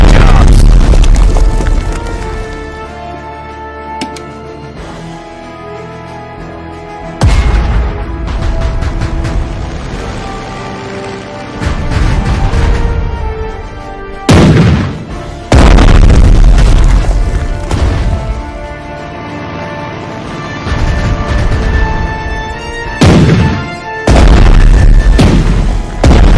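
Loud artillery fire booms from naval capital ships in the Strategic Mind strategy game, with heavy blasts landing at irregular intervals over a continuous bed of game music and battle noise.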